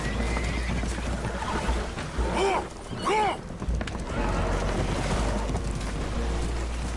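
Spooked horses whinny twice in close succession in Red Dead Redemption 2, aboard a damaged boat taking on water, over a constant low rumble of water and engine.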